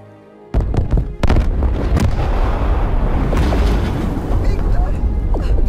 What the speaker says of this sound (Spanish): Enorme explosión en la bahía.